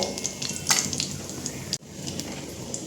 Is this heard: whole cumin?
yes